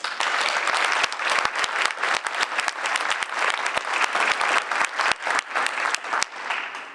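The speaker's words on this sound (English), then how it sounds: "Please join me in another round of applause." Sustained applause from a graduation audience at a DNP ceremony, a dense, steady wash of many hands clapping for the full stretch, loud and fairly close, with no talk over it.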